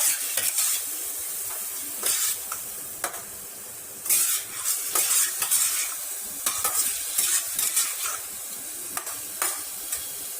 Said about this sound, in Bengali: আমরা চিকেন দিয়ে দিয়েছি। এবার এটা ফ্রাই হবে, 2 মিনিট ফ্রাই করব